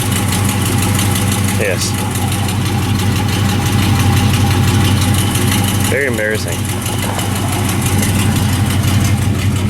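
Stock car engine idling steadily and loudly throughout, a constant low rumble with brief talk over it.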